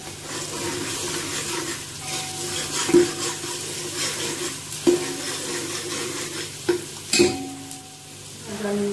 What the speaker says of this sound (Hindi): अब डाल रहे हैं लहसुन और अदरक का पेस्ट।